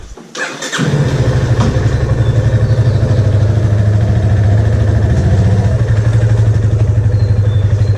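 A motorcycle engine catches after a short start-up burst, then settles into a loud, close, steady idle with an even pulsing throb that runs to the end.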